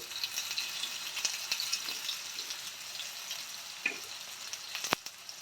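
Potatoes fry in oil in a pan with a soft, steady sizzle, faint and close, scattered light clicks and one sharp tap near the end, no voices.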